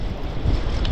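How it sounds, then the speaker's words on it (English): Strong wind buffets the microphone on Folkestone beach during shore fishing in rough seas, a loud continuous low roar with surf noise mixed in and no voices. "there's a lot of pressure from the wind"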